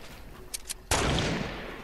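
Gunfire in a video game shootout: a couple of faint sharp pops, then a loud close burst of shots with a long decaying noisy tail.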